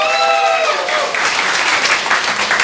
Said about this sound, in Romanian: Aplauze!